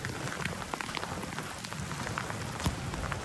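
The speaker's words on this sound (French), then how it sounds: "juste là il pleut quoi" Steady rain falls on a campsite, a dense hiss of drops pattering on a nearby surface that continues without a break, with a few louder individual splats standing out.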